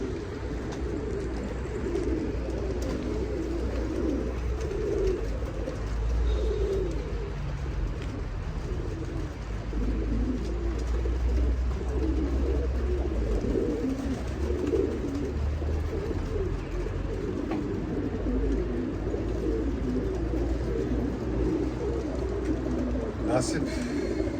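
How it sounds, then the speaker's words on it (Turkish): Pigeons coo softly and intermittently in a loft, including newly arrived yellow-wing and Kashmir birds, a low continuous murmur of cooing with faint background noise and someone talking over it. "İki kuşumuz geldi. Bir sarı kanat geldi. Bir keşmir geldi."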